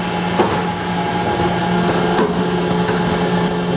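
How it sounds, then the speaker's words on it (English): An electric meat grinder runs steadily at close range, churning pork mixed with sausage seasonings during a first grind of a butchered 300 lb hog, a constant motor whine with a few brief clanks and no talking. "meat right here into the grinder"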